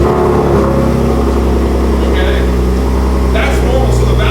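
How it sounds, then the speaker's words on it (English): A third-generation Ford F-150 Raptor fitted with an AWE exhaust idles steadily after its first startup, a constant low engine rumble running the whole time with faint mechanical whine near the microphone. "First startup Raptor Gen 3 AWE exhaust."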